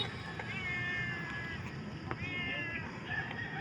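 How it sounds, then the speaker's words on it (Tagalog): Several cats at a feeding spot mewing in thin, drawn-out cries, two or three meows rising over a low outdoor rumble, moderately close. "Uy, isa pang pusa dun oh"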